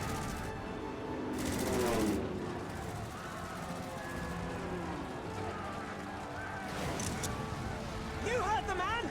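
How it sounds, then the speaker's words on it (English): Cannons fire in a Final Fantasy XIV Shadowbringers battle, a rolling barrage of booming blasts with sharp bursts throughout, mixed with game sound effects and voices talking over it. "All cannons resume firing!"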